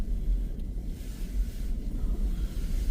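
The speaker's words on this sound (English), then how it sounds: "it's really windy today, and the waves coming in off just the bay here" Strong wind buffets the microphone in continuous low rumbling gusts while choppy waves from the bay wash against and under St Leonard's Pier, steady and close with no talking.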